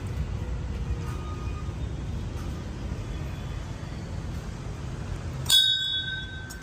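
A small hand bell gives one bright, ringing ding near the end, against a steady low room hum indoors during a power cut. The metallic tone lingers and fades.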